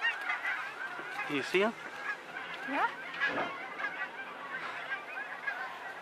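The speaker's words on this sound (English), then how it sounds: "Listen to those ducks." Waterfowl outside the Gaylord Rockies hotel in Denver give several loud honking calls at close range in scattered bursts, with a person briefly speaking between them.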